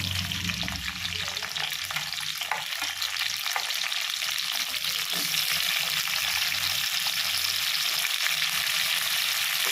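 Brinjal and okra with fennel seeds sautéing in a pan for a prawn curry, giving a dense, continuous sizzle with faint stirring underneath, close and steady throughout, no voices.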